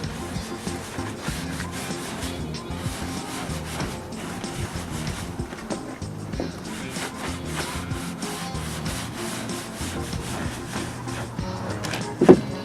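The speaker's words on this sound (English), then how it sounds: "you're just going to scrub this on really well here" A brush scrubs Arborcoat stain into wood boards in repeated rough strokes, a steady close scratching rub that keeps going with no talking.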